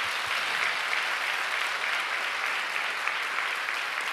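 An audience at a prayer meeting claps for the pastors' wives of pioneer churches, a thick, even wash of applause that holds steady from start to finish, with no voices rising above it.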